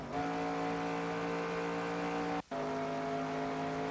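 A race car in NASCAR Racing 2002 at Pocono Raceway holds a steady, loud full-throttle engine drone at constant pitch, broken by a brief cut near the middle before resuming.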